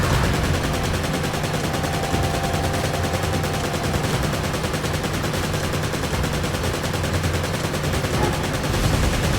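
Rapid, loud gunfire from the video game Resident Evil 5, with dense bursts of automatic and single shots continuing without pause for the whole stretch and no talking.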